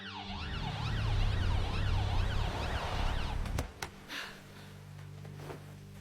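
Cartoon ambulance siren wailing in a rising and falling pattern, loud and steady for about three and a half seconds, then cutting off abruptly into a few short knocks and quiet.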